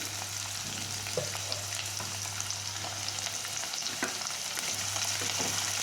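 Chopped onion, curry leaves and finely cut garlic sautéing in oil in a pan, giving a steady close sizzle with occasional stirring scrapes and a low constant hum underneath, no talking.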